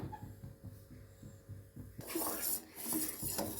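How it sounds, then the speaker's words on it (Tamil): A spoon scraping around a pot of boiling milk for tender coconut payasam, with rhythmic metallic clinks and scrapes at first, then a bubbling, hissing rush as the milk boils up. "பால் பொங்கும்போது நல்லா இந்த மாதிரி அலசி விட்டுக்கணும்"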